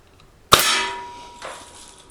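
A Crosman Marlin Cowboy BB rifle shot strikes a metal target with a single sharp clang that rings out and decays, followed by a fainter second ring near the end.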